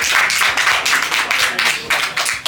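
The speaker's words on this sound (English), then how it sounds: "Clap for everyone" A room audience claps after a student parliamentary debate, a loud, close burst of many hands with uneven rhythmic swells, and a voice is faintly present underneath.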